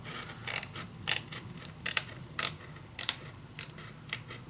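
Scissors cutting paper for a scrapbook mini album, a series of about a dozen crisp snips in an uneven rhythm, close and clear with no talk.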